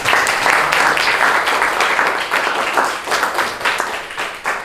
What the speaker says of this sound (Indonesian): tepuk tangan untuk Gosade dulu